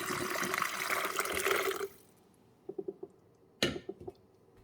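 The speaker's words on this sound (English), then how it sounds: "And then you're just going to put the fresh water back here." Fresh water is poured into the reservoir of a Cuisinart SS-15 Coffee Center 12 Cup coffeemaker, a steady close splashing stream for about two seconds, followed by a few small clicks and knocks.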